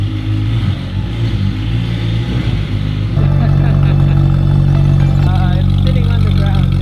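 A Ferrari 458 GT3 Spider's engine rumbles low and steady as the car rolls out, then steps up to a louder, firmer drone midway; a voice talks over it.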